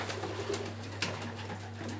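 Pigeons in a loft in Meknes coo in soft, low, throaty murmurs, several overlapping calls close by against a steady background hum.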